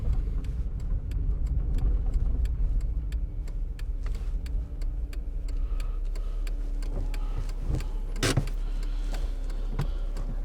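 A 1999 Ford Fiesta engine, which stalls when cold, idles steadily nearby in a shed with a low rumble and faint ticking, broken by one brief clunk near the end, with no voices.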